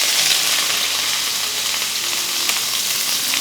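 Chopped onions sizzle and fry in hot oil for a Sri Lankan sweet potato temper, a steady close crackling hiss with no pauses and no voices.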